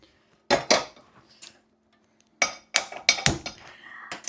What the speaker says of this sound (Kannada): ಕಡಾಯಿನ ತಗೊಳ್ತೀನಿ